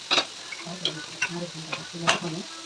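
Food sizzling and stirring in a pan, with soft repeated scraping clicks of a utensil over a low, steady frying hiss.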